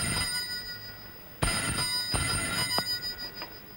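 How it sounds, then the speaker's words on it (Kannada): A telephone rings in an office scene, its bright bell-like bursts repeating several times over steady background hiss, with no talking. "ಅದು ನನ್ನ ಫೋನ್."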